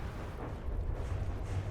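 Cannon fire and explosions from a bombardment with hellfire and 16-pounder cannons in a vehicle-combat video game, heard as a continuous heavy low rumble of blasts with no talking.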